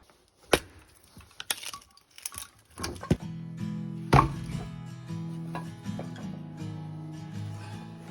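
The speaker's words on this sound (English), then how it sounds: "So I'm trying to split really close to the deck to make it super easy to just load." Firewood logs split for a wood stove, heard as several sharp woody cracks and knocks at irregular intervals close by, followed by a steadier tonal hum underneath.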